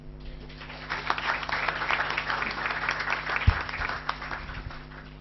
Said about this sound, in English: Now please give a warm round of applause to welcome Dr. Jan Egeland.